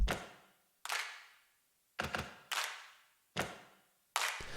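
Sharp percussive hits, claps and thumping stomps, sound one at a time in a sparse rhythm with short decays and silence between them.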